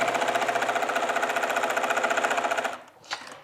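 Sewing machine stitching a Japanese rice bag, running in a fast, even mechanical chatter up close, then stopping abruptly with a brief clunk of handling afterward.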